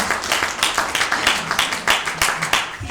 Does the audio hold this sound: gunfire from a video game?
no